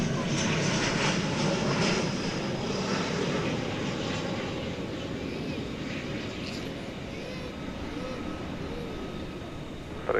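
An airliner on runway 18 left at DFW Airport at night gives a steady, loud engine roar that slowly eases off, with a faint voice briefly in the background.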